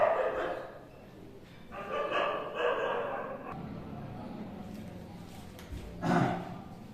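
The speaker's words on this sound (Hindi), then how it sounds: "मेरे वीडियो चालू करते ही कुत्ते भौंकना स्टार्ट कर देते हैं वैसे" Dogs bark outdoors in a few separate bursts, at the start, in the middle and near the end. The barking sounds moderately distant over a low background murmur.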